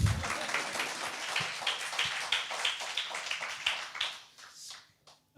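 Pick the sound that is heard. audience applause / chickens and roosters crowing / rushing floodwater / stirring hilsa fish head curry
audience applause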